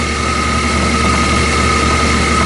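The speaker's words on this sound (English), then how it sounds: "this is uh, out of the centrifuge. It won't come out of the sludge tube until you shut the motor down" An oil centrifuge motor processing waste oil for fuel runs with a loud, steady, continuous hum and whine, unchanging throughout with no talking.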